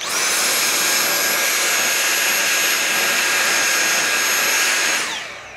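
A shop vacuum whines loudly and steadily for about five seconds, sucking up metal shavings from freshly tapped threads in an aluminum window frame, then powers down with a falling pitch at the end.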